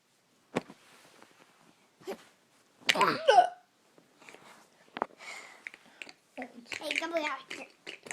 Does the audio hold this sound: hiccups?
yes